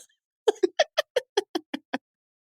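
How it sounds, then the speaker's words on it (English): Several cats meow in quick succession, about nine short calls evenly spaced over roughly a second and a half, close and clear against silence. "I can just hear you with your cats right now."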